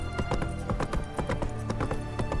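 A rapid, rhythmic clip-clop of horse hooves from riding in The Witcher 3 video game, loud and close for the whole short stretch, with a faint whinny mixed in.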